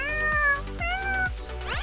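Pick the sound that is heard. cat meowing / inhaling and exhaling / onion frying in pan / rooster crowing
cat meowing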